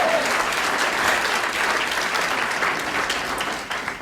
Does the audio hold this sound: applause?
yes